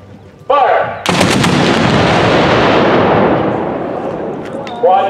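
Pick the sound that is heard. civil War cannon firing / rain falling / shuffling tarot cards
civil War cannon firing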